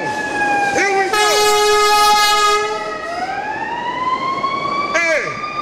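A wailing siren rises and falls inside a song, played loudly alongside layered horn-like tones.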